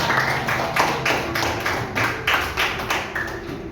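A class claps together in a steady, roughly even beat of about nine or ten sharp group claps, close and fairly loud, with faint classroom hum beneath and no talking.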